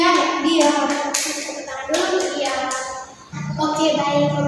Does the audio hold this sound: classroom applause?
yes